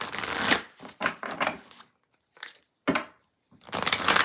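Tarot cards being shuffled by hand in quick riffling bursts, crisp papery rasps separated by short pauses, close and fairly loud with no talking.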